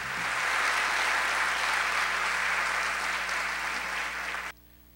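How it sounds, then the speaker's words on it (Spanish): Sustained, even applause from an audience honoring the founder of a mattress company, a full steady roar of clapping held for several seconds before cutting off abruptly, with no talk over it. "yo creo que le demos un aplauso bien fuerte a don Gumercindo Gómez"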